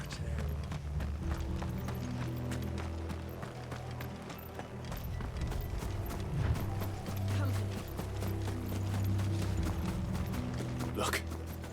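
Horse hooves drum in a steady galloping rhythm in Final Fantasy XVI, mixed with rumbling low game sound and mechanical rattling. The overall level is moderate and continuous, with a sharp burst near the end.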